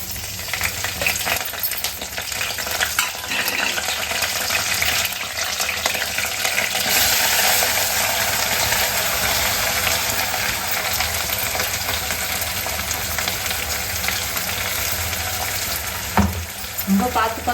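Onions frying in a pan while making chicken, a loud continuous sizzle with scraping stir strokes throughout, close up and without talk.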